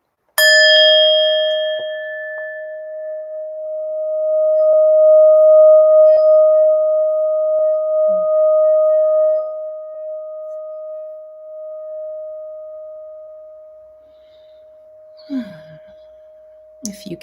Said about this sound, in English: And I'm just going to do the singing bowl.